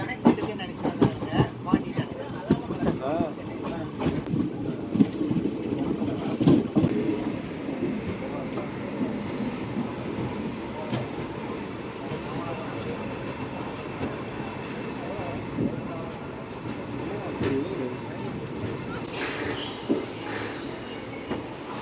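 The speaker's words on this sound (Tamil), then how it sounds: "ஸோ நன்னிலத்தை விட்டு நம்ம வண்டி கிளம்பி போயிட்டுருக்கு." A bi-weekly express train pulls out of Nannilam station toward Mayiladuthurai Junction, with a continuous close rumble, clattering wheels and faint squeals. A voice talks quietly over it.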